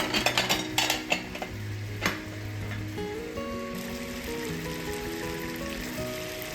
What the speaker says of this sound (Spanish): Ya una vez se ha sofrito la carne, pongo a pochar la cebolla